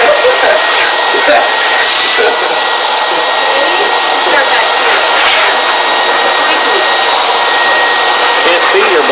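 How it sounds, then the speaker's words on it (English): A vacuum cleaner runs on a Newfoundland dog, a loud, steady, high-pitched whine and roar that continues unbroken throughout, close to the microphone. "Ready for the vacuum?"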